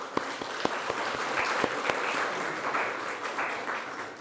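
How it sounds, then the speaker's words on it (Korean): Church congregation applauding to welcome guests during a Sunday morning service, a steady, dense wash of clapping with a few sharp individual claps standing out, held throughout at moderate level. "우리 잠깐 일어나 주시면 우리 박수로 환영해 주시겠습니다."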